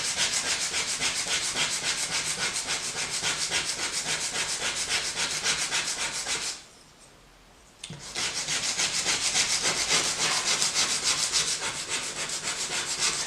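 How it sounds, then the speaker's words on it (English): A pottery trim tool is rubbed back and forth on sandpaper in a brisk, steady scratching rhythm, close and loud, with a brief pause partway through before the sanding resumes. "So I'll sand one side a little bit, take the tool, flip it over, and do that same thing."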